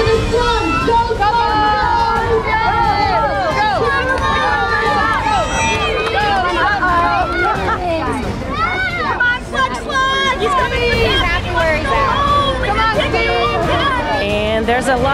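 A crowd cheers and shouts at a slug race at the 2013 Ketchikan Blueberry Festival. A dense, steady roar of many excited voices carries on without a break.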